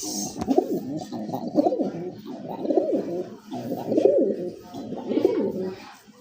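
Fancy pigeons, a male and female pair, coo nearby in repeated low, throaty rolling phrases with brief pauses between them, clear and close with no speech.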